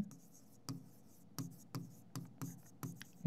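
Pen or chalk writing strokes during a Class 11 biology lecture on Gram-negative bacteria: a run of short, quiet scratchy strokes at an uneven rhythm, close by, with no talk over them.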